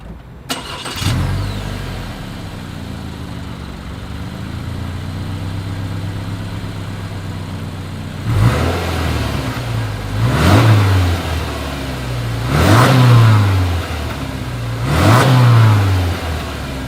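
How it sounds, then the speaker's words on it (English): A 2020 Subaru Forester engine cranks and starts, settles into a steady idle, then is revved three times, each rise in pitch roaring louder through the exhaust. "As always, here is that exhaust clip."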